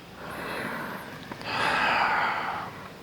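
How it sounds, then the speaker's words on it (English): Breath drawn in through the nose during a seated lotus-pose yoga practice, a soft airy inhale heard close and alone, building gently and swelling louder in its second half. "Just breathe in through your nose."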